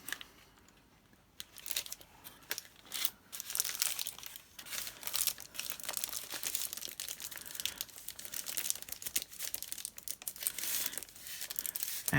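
Grease-proof paper being handled and crinkled for a papercraft page, with continuous close, loud crackling and rustling after a quiet first second, broken by brief pauses.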